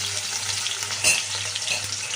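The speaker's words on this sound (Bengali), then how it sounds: "এই পেঁয়াজটা একটু ভেজে নেব" Onion frying in hot white oil in a wok, a steady close sizzle throughout with a brief louder flare of spattering near the middle.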